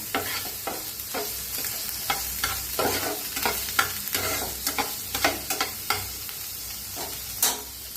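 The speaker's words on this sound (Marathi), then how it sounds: "हिंग, कांदा भाजून घेऊया कांद्याला" Onion frying in a pan with cumin and asafoetida, a continuous sizzle broken by many quick scraping stir strokes at an irregular rhythm, close up, with no voices.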